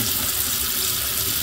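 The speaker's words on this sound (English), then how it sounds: "let's go check it on the sink. It's actually thicker flow than before." Tap water runs from a sink through a drilled-out RC boat rudder, a steady, fairly loud rushing hiss with no speech.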